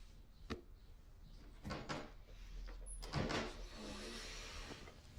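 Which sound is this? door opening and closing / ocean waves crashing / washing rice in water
door opening and closing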